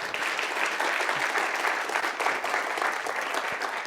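Audience applause at a graduate three-minute thesis competition, a steady, dense wash of clapping from a full room that holds evenly for the whole stretch with no voices over it.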